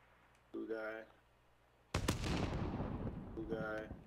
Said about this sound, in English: Light bombing coming.